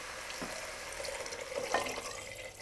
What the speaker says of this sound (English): next step is our chicken stock. I'm going to just pour this right in.